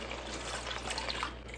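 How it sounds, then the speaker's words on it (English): Liquid poured into a pan of mushroom sauce, a soft continuous trickle heard faintly and briefly over a low background hum. "So I'm going to pour the rest of this in"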